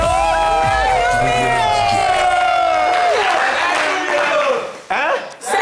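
A studio audience on a French television variety show applauds and cheers, a dense wash of clapping and voices with chanting tones layered over it, fading toward the end.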